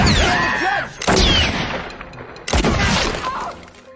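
Gunshots from a ghost pistol in a horror film, several loud sharp blasts with ringing and shattering debris, separated by brief gaps amid the film's soundtrack.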